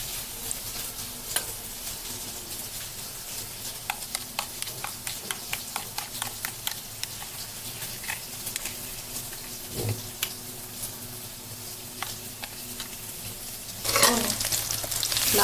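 Spice paste thinned with water frying and being stirred in a pan, a steady soft sizzle with repeated scraping and clicking strokes throughout, growing louder and hissier near the end.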